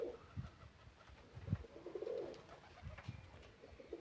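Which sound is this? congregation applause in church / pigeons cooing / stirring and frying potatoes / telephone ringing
pigeons cooing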